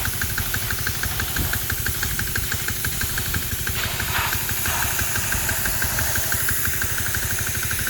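A 4HP diesel pressure washer idles with a steady, loud chugging knock and an ongoing hiss of spraying water, continuous and close throughout.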